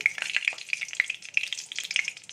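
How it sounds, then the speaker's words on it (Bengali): Two bay leaves crackle in hot oil, giving a bright, continuous sizzle with small popping bursts, close and fairly loud, and no voices. "তেলটা গরম হয়ে গেছে, এবার কিছু ফোড়নে মশলা দেব। দুটো তেজপাতা দিয়ে দিলাম"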